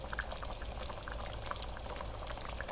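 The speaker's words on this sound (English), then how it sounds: "I'm going to continue to simmer this until they get here" Beef tips simmer in gravy in a pot with a continuous, even bubbling and popping, close by and unbroken, with no voices.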